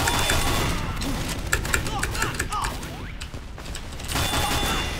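Rapid gunshots come in quick succession in Team Fortress 2, sharp cracks spread across a busy game mix with whooshes and thuds, and a voice talks intermittently underneath.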